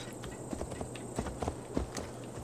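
Horse hooves clip-clopping in Assassin's Creed Valhalla, a steady walking beat of soft thuds over a constant game ambience, fairly quiet and without speech.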